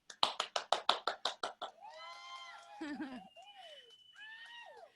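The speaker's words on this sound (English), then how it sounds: "Let's give a big round of applause for Sister Ivy." Sharp hand claps for a guest introduced as Sister Ivy, about ten in a quick, even rhythm that stop abruptly, followed by a voice speaking with no more clapping.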